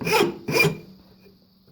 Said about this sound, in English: I switched over to this rasp here, fairly fine, to refine around that